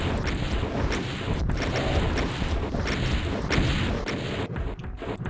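In the video game Doom 2, a rocket launcher fires and rockets explode, producing dense, loud booms and crashes that follow one another with scattered sharp hits.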